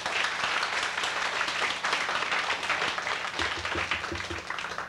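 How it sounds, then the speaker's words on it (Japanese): Concert crowd at a 1994 rock show applauding and cheering before the band starts, a dense continuous wash of clapping throughout the hall. "皆さん盛大な拍手を。"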